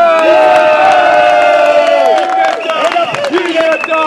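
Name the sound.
crowd applauding and cheering at a rally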